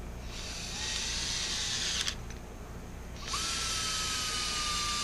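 Close, loud whine of a power tool driving the carburetor screws on a pinched Husqvarna, Jonsered or Redmax chainsaw, running in steady bursts with a short break and then one long pull.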